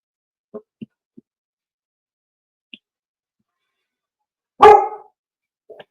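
A few soft yips and muffled woofs from a dog barking during a thunderstorm, then one loud, sharp bark, followed by a quieter short bark, with silence between.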